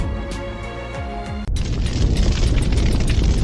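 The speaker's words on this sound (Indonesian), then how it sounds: "Padahal di situ ada ledakan besar." A large explosion sound effect for a cosmic impact, beginning as a sustained tonal rumble, then a sharp cut into a loud, dense roaring blast that keeps rolling steadily to the end.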